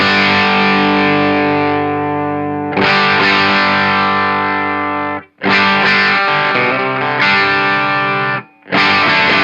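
Electric guitar driven through an Eastwood Black Box distortion pedal with the drive set low; loud sustained chords strummed in a few long blocks separated by short gaps, with no one talking.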